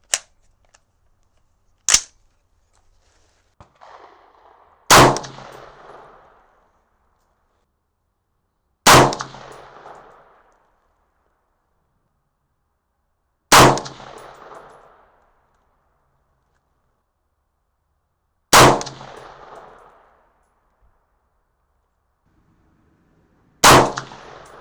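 Seven sharp, loud .223/5.56 rifle shots fired with deer hunting loads on a range, spaced several seconds apart, each a crisp crack with a short decaying echo.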